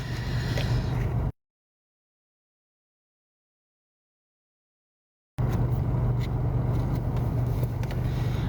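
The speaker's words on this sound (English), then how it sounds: "I'm running the car for a little bit because it is so cold outside." A car idles in cold winter weather, a steady low engine hum heard up close, broken by a stretch of total silence before the same hum resumes.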